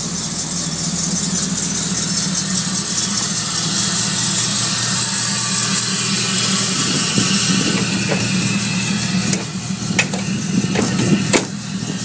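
A 1986 Chevrolet Camaro Z28 IROC engine runs at a steady idle, a continuous low rumble heard close by with slight clatter toward the end and no talking.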